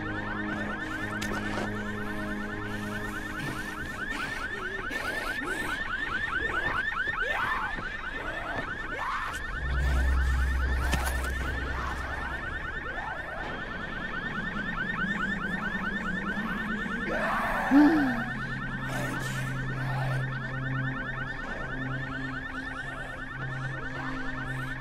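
In Dying Light, a car alarm blares continuously with a fast, even warbling pulse, loud and unbroken from start to finish, while low rumbles and scattered game noises pass beneath it.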